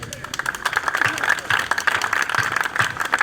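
Audience clapping at a Hindi poetry gathering, a kavi sammelan at a Jhanda Mela, honouring Bhagat Singh. The applause is dense and sustained throughout, crowd-wide and fairly close.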